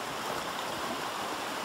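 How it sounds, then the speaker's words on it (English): A stream rushes at a water crossing on the hiking trail to Owls Head in New Hampshire, giving a steady, broad, moderately faint wash of flowing water with no voices. "So here's the next water crossing."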